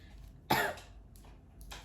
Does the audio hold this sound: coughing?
yes